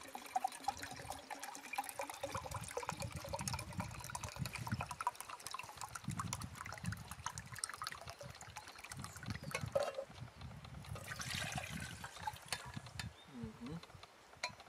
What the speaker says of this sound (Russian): Мы каждую нальем одинаковое количество воды.